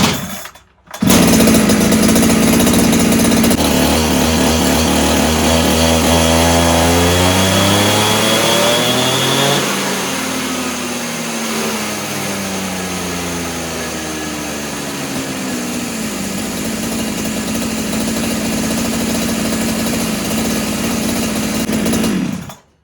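Farmertec 372XP ported big bore chainsaw on a dyno, screaming at full throttle close up for over twenty seconds, its pitch sweeping down under load and climbing back as the engine pulls, with no talk.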